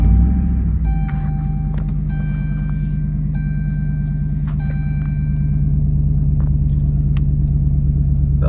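A Dodge Ram 1500 pickup with the 5.7L Hemi V8 cranks and fires up, then settles into a steady loud idle rumble, with several dashboard chimes and beeps sounding over the engine.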